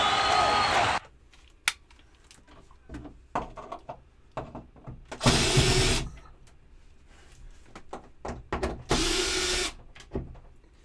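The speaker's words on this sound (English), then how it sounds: "This is drilling with Smitty." Several short bursts from a power drill whirring near the mic, separated by clicks and handling knocks.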